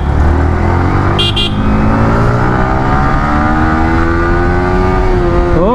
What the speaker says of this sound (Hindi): स्टॉक एग्जॉस्ट है बट लाउड बहुत तगड़ा है इसका